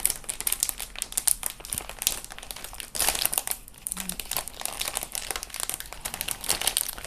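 Plastic packaging for a Gunpla scene base kit crinkles and rustles steadily, close up, with crisp crackling bursts and small tearing sounds as the bag is handled and pulled open.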